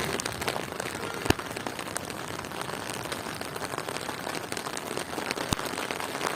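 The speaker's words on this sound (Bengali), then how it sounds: "অনেক দিন পর আজকে বৃষ্টি হচ্ছে।" Rain falls steadily on a day of storms near Bardhaman, a constant soft patter with a few sharper drop hits, moderately distant and with no talk.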